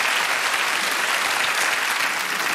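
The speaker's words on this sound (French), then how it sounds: "Applaudissements pour ce monsieur." Loud, dense clapping from a crowd, continuous for a couple of seconds with no voices.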